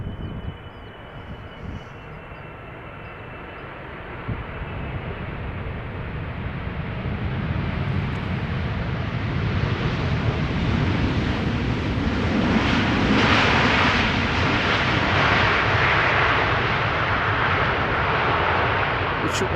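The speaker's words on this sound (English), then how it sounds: "coming in to land is the KLM 777-300ER arriving from Cape Town" A KLM Boeing 777-300ER arriving from Cape Town lands at Amsterdam Schiphol, its jet roar building from a moderate rumble into a loud, broad sustained rush that holds to the end.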